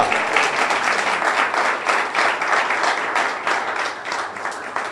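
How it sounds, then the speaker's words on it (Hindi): Sustained applause from a church congregation during a sermon, steady dense clapping filling the whole stretch with no pause, fairly loud and without speech over it. "जोरदार तालियां"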